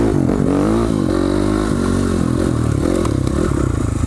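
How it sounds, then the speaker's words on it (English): A 300cc Husqvarna dirt bike is ridden off-road, its two-stroke engine loud and close, revving up and down with gear changes and a rattly, buzzing drone throughout. "this little Husqvarna rip's pretty good"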